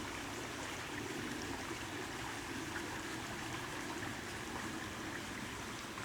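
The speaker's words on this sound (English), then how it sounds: "The running stream here is going to help bring in some more energy." A stream runs continuously through woods at Uniacke Estate with a steady, rushing babble of water, even in level from start to finish.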